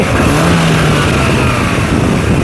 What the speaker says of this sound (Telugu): ఇంజిన్ యొక్క నాయిస్ చాలా సైలెంట్గా అయితే ఉంది పెట్రోల్ కార్ కాబట్టి ఒకసారి యాక్సిలేటరీ